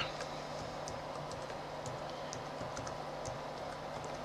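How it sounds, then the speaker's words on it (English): Password being typed on a computer keyboard, light, fairly faint key taps scattered irregularly over a steady background hiss. "you need to type your password"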